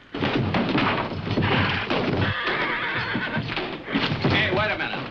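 A horse whinnies loudly and at length in a 1957 Western film scene, with shuffling hooves and a voice mixed in around the neigh.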